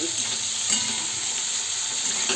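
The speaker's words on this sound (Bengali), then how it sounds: "ডিমের কারি রান্না করছি, দেখে নাও, লাল লাল ঝাল ঝাল ডিমের কারি।" A spicy red egg curry fries in a pan while being stirred, giving a loud, close, continuous sizzle with scraping stir sounds throughout and no voices.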